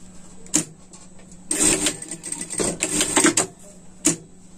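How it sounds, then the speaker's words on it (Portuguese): A sewing machine stitches a seam along the hem of a small pocket on a pet sling bag, running in two short bursts and a longer stretch of rapid whirring, with sharp clicks between runs. "E passar uma costura aqui"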